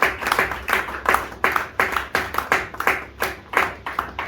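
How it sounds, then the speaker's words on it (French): A church congregation claps in a steady rhythmic beat, about two claps per second, fairly close and loud, with no clear cheering voices above the clapping. "Nous acclamons très très très fort."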